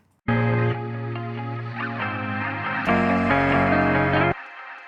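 A sustained, buzzy synth chord run through the delay module of the Baby Audio Transit plugin, its echoes smearing into a thick wash before it cuts off abruptly.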